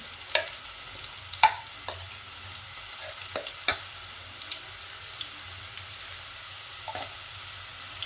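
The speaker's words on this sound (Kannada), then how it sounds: "ನಾನು ಹಸಿಮೆಣಸಿಕಾಯಿ ಪೇಸ್ಟ್ ಮಾಡಿದ್ದು ಹಾಕ್ತಾಯಿದ್ದೀನಿ" Green chilli paste fries in a pan for a vegetable palya, with a faint, low background sizzle broken by scattered sharp clicks and scrapes of a spoon stirring against the metal.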